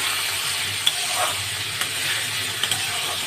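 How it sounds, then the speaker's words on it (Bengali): Bitter gourd frying with pumpkin, turmeric and salt in a pan, giving a steady, moderately loud sizzle with a few sharp clicks from a utensil and no talking. "দিয়ে উচ্ছেগুলোকে লাল করে ভেজে নেবো"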